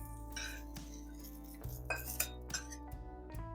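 Fried cauliflower being transferred from a pan onto a plate for a Maharashtrian Bhogichi bhaji, with clinking metal utensils and dish contacts, several light clinks and scrapes over a steady low background hum.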